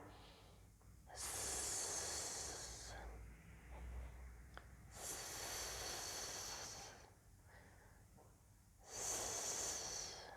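During a slow core exercise, a person takes close, hissing breaths: three long, airy exhales of about two seconds each, separated by quiet pauses, with no other sound.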